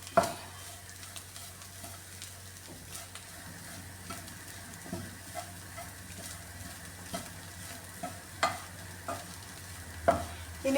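Curry leaves frying and being stirred into a beetroot fry in a pan, giving a soft steady sizzle with scattered scrapes and clinks of stirring, close and fairly quiet.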